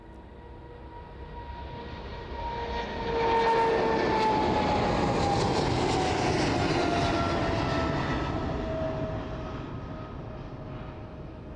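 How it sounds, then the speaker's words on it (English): An Aerologic Boeing 777 cargo jet descends to land at East Midlands Airport on a windy day, its engine roar swelling from a distant whine to a loud broad rush overhead before slowly fading, with no voices. "The Aerologic 777 making its way down towards us now then."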